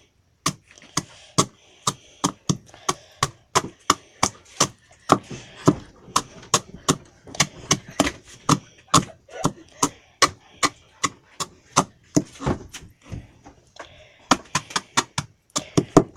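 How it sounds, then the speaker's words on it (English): A knife blade smashing cheese balls into powder on a cutting board, with a steady series of sharp, close thwacks repeating roughly every half second throughout. "Then you're gonna tip your knife backwards and smash."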